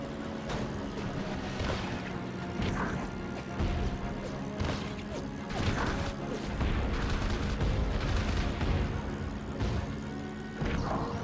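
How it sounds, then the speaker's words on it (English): Anti-aircraft flak fire in the WWII Pacific flight combat game Heroes of the Pacific: dense, continuous rumbling bursts and crackling blasts over steady engine drone, with sharper hits recurring every second or two. "Where's that flak coming from?"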